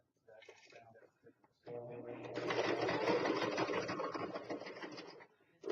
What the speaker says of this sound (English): then I'm going to do a running stitch